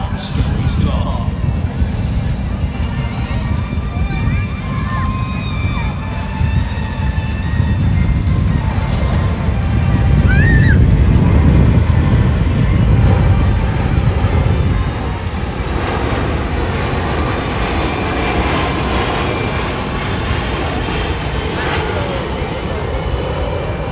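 A Boeing C-17 military transport aircraft at an airshow gives a loud, steady jet engine roar that swells near the middle of the pass and then eases, with no speech over it.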